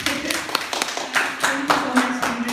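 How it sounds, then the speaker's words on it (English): Scattered clapping from an audience at a cultural heritage gathering, a handful of distinct claps spaced irregularly at close range, with a voice speaking over them. "A round of applause again."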